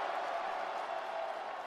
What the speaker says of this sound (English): Listen to that. Cheering battle